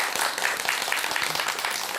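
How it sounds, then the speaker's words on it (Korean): Audience applause at a Buddhist monk's talk, a dense, steady wash of clapping that stays loud and close throughout, with no voices heard over it. "박수가 너무 가식적인 것 같아요."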